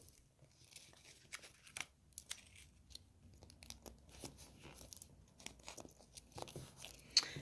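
Scissors cut out a paper face for an autumn craft, making a string of close, soft snipping and crisp paper crunches in an irregular rhythm, faint and unaccompanied by talk.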